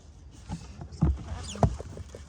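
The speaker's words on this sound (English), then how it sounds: "We're just paddling, dude." Canoe paddling on Chenango Lake: a few soft, close splashes and knocks of paddle strokes against water and hull, spaced irregularly over quiet surroundings.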